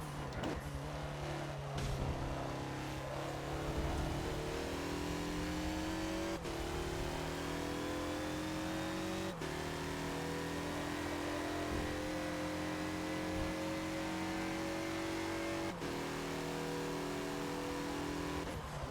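Race car engines in the Forza video game at Road Atlanta, including Indy cars and a 2014 Mazda Lola B12/80 prototype, drone loudly and continuously, rising in pitch through repeated gear changes with brief shift breaks, no talking.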